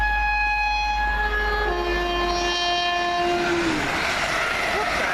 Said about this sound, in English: 2 Yankee 88 off Birmingham going to London Euston.